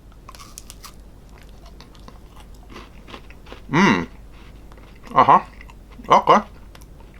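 Someone bites into a two-finger Nescafe Mocha KitKat, giving three short crisp crunches spaced over a few seconds, close to the mic in a quiet room, with a brief word spoken before.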